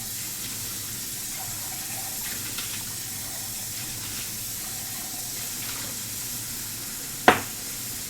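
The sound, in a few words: water running from a tap while rinsing a pan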